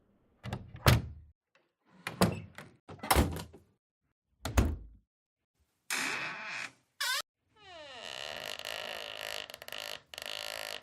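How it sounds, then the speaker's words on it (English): Freesound door sound effects play alone: several short thuds and knocks, then a longer sliding, hissing door movement with a brief whoosh and a sustained mechanical rumble near the end. "Imagine that on a sci-fi door."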